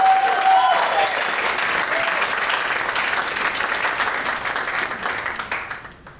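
Stand-up comedy crowd breaking into loud, sustained applause and cheering that stays dense for several seconds before thinning and fading at the end.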